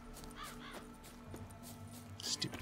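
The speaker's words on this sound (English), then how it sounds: "Stupid crows." Crows in a game cawing a few times at a moderate distance, harsh repeated calls over a quiet ambient bed.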